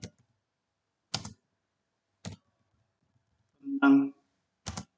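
Isolated clicks on a computer keyboard land at irregular intervals about a second apart, close and crisp against silence, with a short spoken word breaking in between them.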